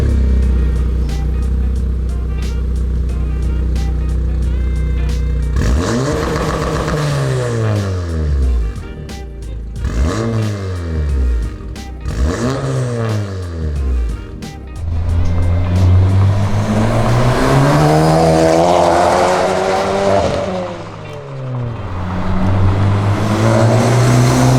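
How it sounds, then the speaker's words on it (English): A 10th-generation Honda Civic fitted with a Greddy big-muffler exhaust idles, then is revved in three sharp rising-and-falling blips, followed by a longer, louder rev that climbs and holds before settling, close and loud. "there's the Greddy exhaust, the big muffler one"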